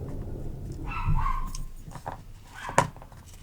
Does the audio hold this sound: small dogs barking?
yes